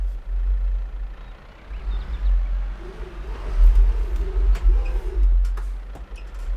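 Low, steady engine rumble of a John Deere tractor in Farming Simulator 22, idling and droning continuously with slight swells, no speech.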